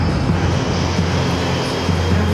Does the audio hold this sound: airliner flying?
yes